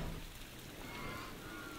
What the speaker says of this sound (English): Sadly, it's raining right now.